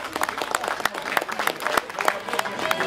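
Crowd applause at a women's elite cycling race in Dottignies for a rider finishing second, a loose, uneven scatter of outdoor clapping with sharp individual claps and faint crowd voices mixed in.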